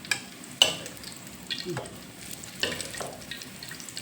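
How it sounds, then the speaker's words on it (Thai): Fish cakes made from mackerel frying in hot oil, a soft, quiet sizzle with occasional stirring and scraping clinks from a utensil in the pan. "ก็จะทอดใหม่นะจ๊ะเบาแก๊สไว้นิดนึง"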